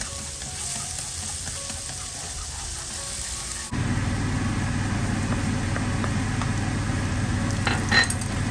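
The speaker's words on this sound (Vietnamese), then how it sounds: "Tỏi mình phi với cái nước mỡ rán hồi nãy các bạn là cực kỳ thơm luôn" Garlic frying in rendered pork fat in a pan, a steady loud sizzle that grows stronger partway through as more goes in, with faint stirring clinks near the end and no talk.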